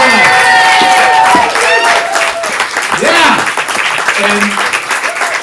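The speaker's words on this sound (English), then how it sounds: "Give them all a big round of applause." An audience at a student stand-up comedy showcase applauds and cheers loudly, a dense roar of clapping mixed with whoops and voices calling out throughout.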